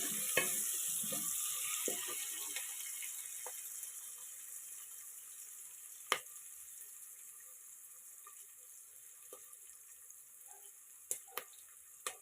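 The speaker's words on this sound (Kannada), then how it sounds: "ಒಗ್ಗರಣೆ ಸ್ವಲ್ಪ ಚೆನ್ನಾಗಿ" Tempering spices for a bitter gourd curry fry in a pan, a faint steady sizzling hiss with a few sharp clicks and pops scattered through a quiet kitchen.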